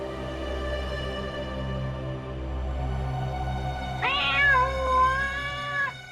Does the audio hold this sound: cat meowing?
yes